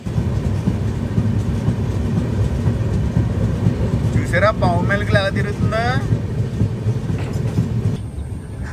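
Mahanagari Express running through tunnels from Varanasi to Mumbai, a loud steady rumble of wheels and carriages with a brief squealing screech in the middle, while someone talks over it.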